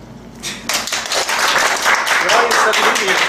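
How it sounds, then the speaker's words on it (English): Audience applause and clapping at a stand-up comedy show, a loud, dense burst of many hands that swells in and holds steady, with a voice mixed in. "It's alright, you can clap."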